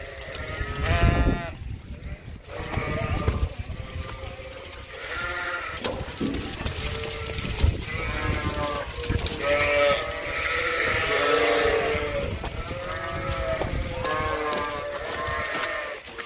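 A flock of sheep at Ewetopia Farms bleating repeatedly as they leave the barn, many overlapping calls near and far over steady outdoor background noise.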